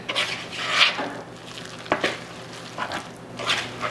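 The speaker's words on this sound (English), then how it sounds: "And then just stir this until it's just combined." Paleo muffin batter with almond meal and coconut flour being stirred in a bowl, giving a few soft scraping strokes with brief clinks, close and moderately loud, with no talking.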